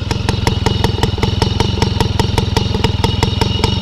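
A small two-stroke MBK 51 moped engine idles steadily nearby, its rapid even putter and clatter running throughout without any voices.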